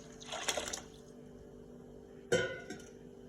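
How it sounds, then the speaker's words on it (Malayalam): Water boiled with cumin and onion is poured in hot, making two short splashing gushes separated by a quiet pause, close and fairly soft. "ഇതിലേക്ക് നേരത്തെ ബാക്കിയുള്ള ജീരക ഉള്ളിയൊക്കെ ഇട്ട് വെള്ളം തിളപ്പിച്ചത് ഇതിലേക്ക് ഒഴിക്കുക"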